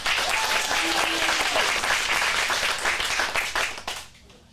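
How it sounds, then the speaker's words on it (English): An audience at a teen acting studio showcase claps and applauds, a full burst of dense clapping with a few voices underneath that thins out and fades over the last second. "let's get a round of applause for our next scene"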